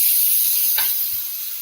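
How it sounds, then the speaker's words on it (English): Tomatoes hitting a hot frying pan set off a steady bright hiss that flares briefly as they land, then settles back to a continuous sizzle with no talking. "That's a nice sizzle."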